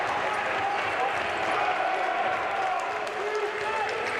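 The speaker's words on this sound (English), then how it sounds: "Brentwood fans cheering them on." Crowd of fans cheering in a gym during a senior boys high school basketball final, a broad continuous roar of voices and noise with faint sneaker squeaks, steady and fairly loud, with a commentator talking over it.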